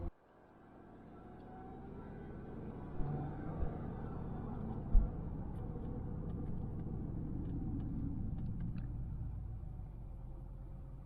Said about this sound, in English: Let's let it warm up and make sure the idle's good.